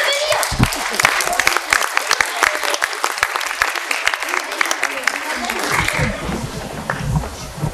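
Audience applause at a stage show ahead of a magic trick, with a dense, steady burst of clapping that carries on throughout, fading slightly near the end as some voices come through.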